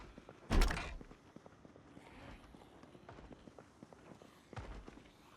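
A door opens in the video game Project Zomboid with a sharp, dull thunk. Soft footstep taps follow, then a second heavier thunk near the end, all fairly quiet.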